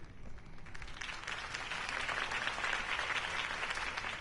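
Sustained crowd applause in a Batman video game, dense and steady clapping throughout, loud and close with no talking.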